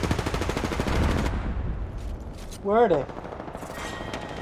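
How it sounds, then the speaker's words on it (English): Rapid incoming gunfire in the battle-royale shooter Apex Legends, a dense stutter of shots in the opening second before fading, followed by a brief chirping effect; a player's voice speaks over it. "I am taking fire, friends."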